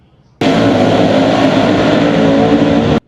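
World of Outlaws NOS Energy sprint cars racing at Lernerville Speedway produce a loud, sustained engine roar that cuts in abruptly, holds at full volume for over two seconds and then stops sharply.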